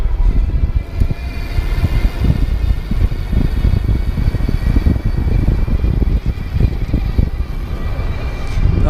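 Magnum Metro+ electric bike climbing a hill on variable-speed throttle, its motor hum mixed with steady loud wind rush and road rumble throughout.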